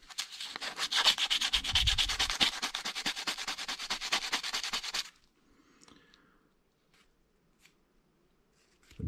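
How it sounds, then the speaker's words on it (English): Fine grit sandpaper rubbing back and forth on an Abu Garcia 6500c3 baitcasting reel part, a close, steady scratchy sanding for about five seconds, then it stops and only faint small handling clicks remain. "There's some really fine grit sandpaper."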